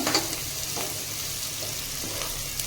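Onions frying in a pan, a steady bubbling sizzle with a few soft stirring scrapes and no talk.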